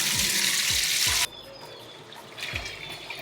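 Salt water pours off lettuce out of a container in a loud, steady rushing stream that stops abruptly partway through, leaving soft drips and a quieter trickle afterward.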